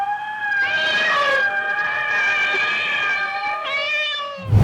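A foley artist's imitation of a cat yowling, as done for a Tamil film sound effect: a drawn-out, wavering meow-like wail with rising and falling pitch, loud and close, alone without talk.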